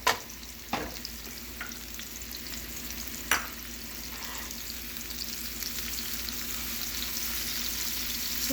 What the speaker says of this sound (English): Just sauteing it for a minute just helps to bring out a lot of that flavor.